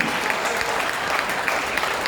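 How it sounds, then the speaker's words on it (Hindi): An audience at a Hindi comedy and poetry show claps together, a thick continuous burst of applause heard alone for a couple of seconds. "यहाँ की जनता तालियां बजाकर आपका अभिनंदन करेगी जी"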